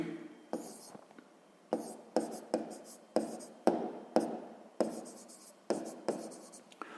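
Pen writing out a sixth-grade math exercise solution on paper: repeated short scratchy strokes in bursts, close and fairly quiet, with no talking.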